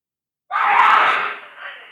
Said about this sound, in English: I head for the scream